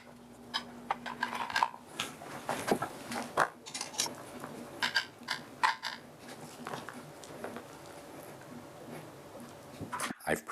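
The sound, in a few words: cutting dough into small square pieces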